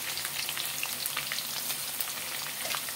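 Cumin seeds sizzle in hot oil with a bright, continuous crackle and fine popping, close and even throughout, with no voices.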